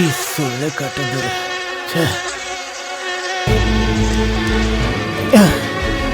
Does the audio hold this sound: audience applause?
no